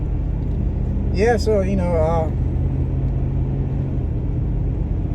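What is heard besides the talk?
truck driving on a San Francisco street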